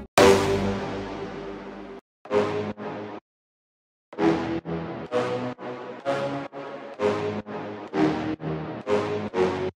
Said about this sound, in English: I also took a brass stab from my future house sample pack